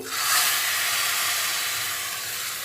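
Steady loud sizzling hiss of hot tempering oil hitting cooked gongura lentils, continuous and close throughout, with no talking.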